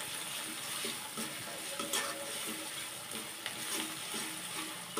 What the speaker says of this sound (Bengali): আদা রসুনের গন্ধটা যাওয়া পর্যন্ত একটু ভালো করে নাড়াচাড়া করে নেব।